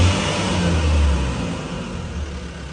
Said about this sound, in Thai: อันนี้มันจักรเนาะเสียงจักร